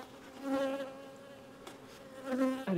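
Honeybees from an opened beehive hum in a close, steady buzz that rises and falls in loudness over a few seconds.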